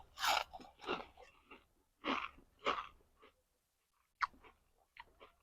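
Crispy fried small shrimp are crunched and chewed close up in several loud, crackly bites with pauses between them, followed by a few quieter chews.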